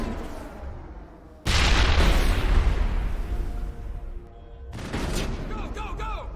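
Two heavy grenade explosions in the Mass Effect video game boom a few seconds apart, each a loud, close blast with a rumbling tail, while voices talk faintly in the background.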